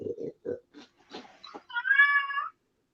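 A hungry cat meows for food: several short grunting chirps, then one long, loud, drawn-out meow up close.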